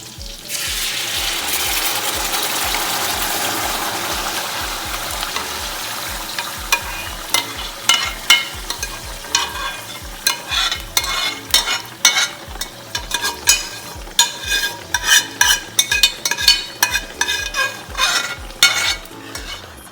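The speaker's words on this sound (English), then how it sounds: "we're going to be putting the cooked tomato paste in here" Cooked tomato paste frying in a pot for Nigerian stew, starting with a steady sizzle and giving way to rhythmic scraping stirs of the spoon against the pot, close and alone.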